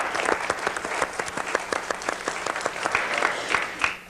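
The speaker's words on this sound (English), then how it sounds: "Well, I think everyone can applaud that." Audience applause at a panel discussion on race, ethnicity and culture, a dense steady patter of many hands clapping, moderately near, lasting throughout with no voices over it.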